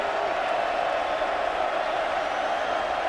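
Texas Longhorns football stadium crowd at a game against Texas Tech, a dense, steady roar of distant cheering from many voices, with no single shout standing out.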